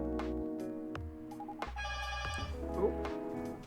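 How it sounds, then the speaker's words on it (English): A doorbell chimes indoors in a few bright, ringing tones that sustain and overlap, with a low hum beneath and faint voice sounds near the end. "Of course my doorbell is ringing."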